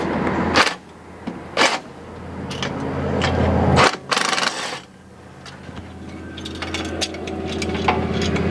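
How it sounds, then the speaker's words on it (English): A wrench working bolts on a Polaris RZR rear CV guard, close metallic ratcheting and scraping in short bursts with pauses between, some clanks louder than others, no talk. "Let's see if we can get this wrench on here without looking."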